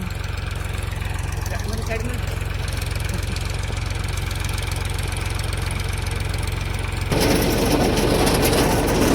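A tractor engine idles steadily in a potato field, a loud low rumble throughout that grows louder and rougher near the end.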